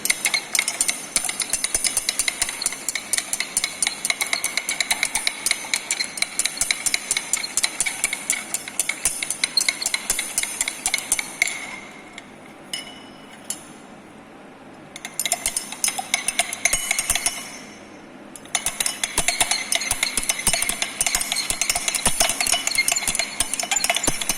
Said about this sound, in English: You have to stir until all the solids get dissolved.